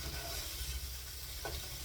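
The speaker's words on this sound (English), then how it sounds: "Just frying these" Breakfast food frying in a pan with melting, crisping cheese gives a soft, continuous sizzle, fairly quiet and close, with a faint scrape of stirring partway through.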